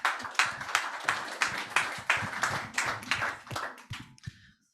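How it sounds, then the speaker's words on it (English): Audience applause at a bioenergy conference workshop, with close, fairly sparse clapping in slightly uneven bursts that tapers off and stops after about four seconds. "A round of applause again"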